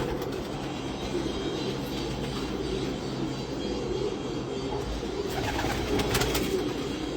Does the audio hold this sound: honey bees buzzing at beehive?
no